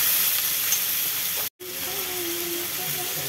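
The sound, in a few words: onion frying in a pan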